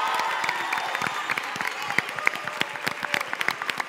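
Dense applause from an audience at the Teatro Coliseum in Barcelona, many hands clapping steadily with a few louder claps standing out, continuous throughout.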